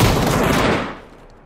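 A loud burst of PUBG gunfire on the Miramar map, shots merging into a roar that trails off into a fading echo.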